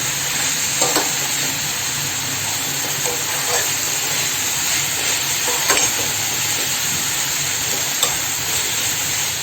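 Drumstick leaves and onion being sautéed in a pan, a loud continuous frying sizzle and hiss with occasional stirring clatter, close and dense throughout.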